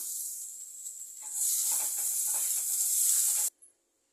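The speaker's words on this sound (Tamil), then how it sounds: "கருவேப்பிலை அலசி வச்சுருக்கேன். இதை கொஞ்சம் மொறுமொறுன்னு வறுத்துக்கலாம்." Curry leaves dry-roasting in a pan give a steady close crackling sizzle that starts softly, swells after a second into a dense crisp hiss, then stops abruptly.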